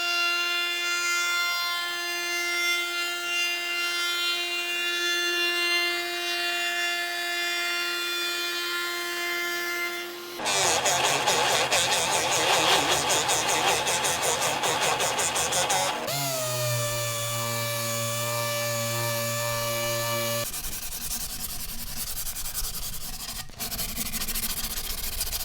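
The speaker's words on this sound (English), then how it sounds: "We'll sand it 80 grit, 120, and then we'll drill and route the edge, and then 150 for our final sand." Power sanding through 80, 120 and 150 grit and routing the edge of a repaired wooden door frame produce loud, sustained machine whines and a stretch of harsh rasping abrasion, shifting between tool passes with no talk.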